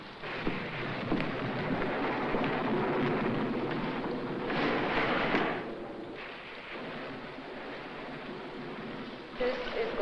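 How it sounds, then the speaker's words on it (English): Heavy rain pours steadily in a storm, a dense loud wash that rises in a couple of swells, like gusts or distant rumbles, and stays constant throughout with no speech. "To be one hellacious storm before it's done."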